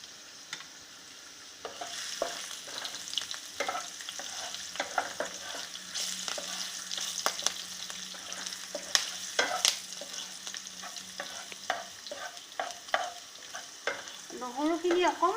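Chopped chili and garlic fry in a pan, a close crackling sizzle with frequent spatula clicks and scrapes, busier toward the end, with no voice over it.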